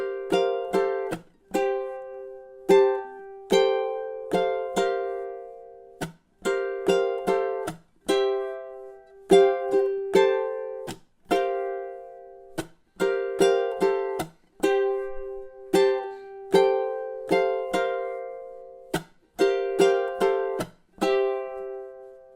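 Ukulele strums a song's chorus with the repeat: crisp, rhythmic strummed chords in repeating bursts with short gaps, played alone and clearly.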